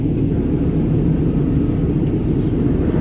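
Airplane cabin noise during the descent into Bengaluru at night, a loud, steady, low engine roar and rumble that holds without a break.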